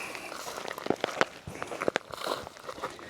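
Footsteps crunch through dry, brittle vegetation on a Texas ranch during drought, with irregular crackling steps and rustles close by while someone hikes along carrying a bag of deer corn.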